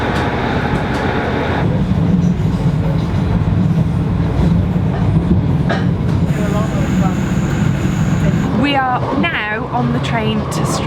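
A train running from Glasgow to Stranraer rumbles and rattles steadily from inside the carriage, with voices chatting over the noise near the end.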